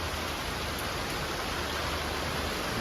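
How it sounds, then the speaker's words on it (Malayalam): Steady rain falls outside in Kerala, a dense, even hiss holding at constant loudness from start to finish with no voices. "ഇപ്പം മഴയാണ് ഇവിടെ പുറത്തൊന്നും ഇറങ്ങാൻ പറ്റുന്നില്ല"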